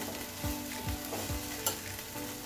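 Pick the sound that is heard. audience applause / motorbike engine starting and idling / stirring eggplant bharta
stirring eggplant bharta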